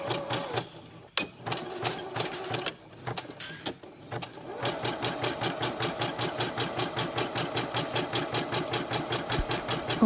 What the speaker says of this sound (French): Et je vais faire une grosse couture zigzag tout le long, sauf sur les morceaux qui dépassent